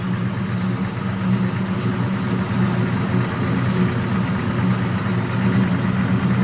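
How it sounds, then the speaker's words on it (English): A 1970 Plymouth Duster's 408 V8 engine idles steadily with a deep, lumpy rumble and low vibration, constant and close, with no voices. "Got good sound out the exhaust out the back"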